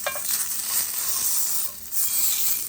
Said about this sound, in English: you want to go ahead and sear all the sides of it